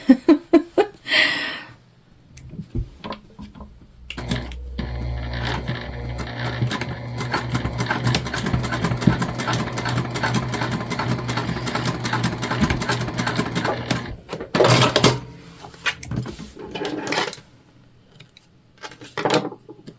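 A sewing machine bastes tote bag pieces in place, running in steady bursts of rapid stitching for about ten seconds, with short pauses and fabric handling before and after.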